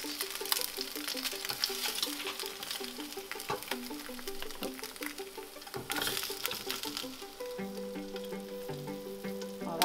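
Eggs fry in a hot pan for a home breakfast, giving off a steady, close crackling sizzle with fine popping spatter, joined by intermittent scraping and clinking of a utensil against the pan.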